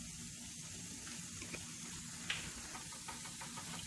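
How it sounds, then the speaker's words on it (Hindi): Garam masala and other spices frying in a pan with onions, a faint, continuous sizzle and hiss with a few soft stirring clicks. "1 minuto condimento fritamos"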